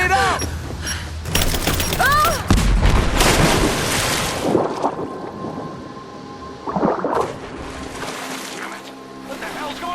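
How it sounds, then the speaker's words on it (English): Gunfire and a grenade blast in the video game Rise of the Tomb Raider, with loud broadband bursts and a heavy low boom around the middle, followed by scattered crackles beneath a game score and voices talking. "Grenade out!"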